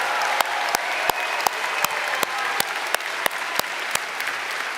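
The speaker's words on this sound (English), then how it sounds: "Let's give our valedictorians a round of applause." Audience applause for valedictorians at a high school graduation ceremony, a steady round of clapping from a large crowd with crisp individual claps audible over the wash.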